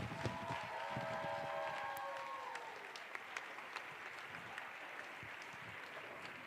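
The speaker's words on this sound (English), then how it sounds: "Let's give them a round of applause for coming back." Audience applause fills a Christmas concert hall, a dense, steady wash of clapping that holds strong for a few seconds and then thins slightly while continuing, with faint lingering musical tones underneath at the start.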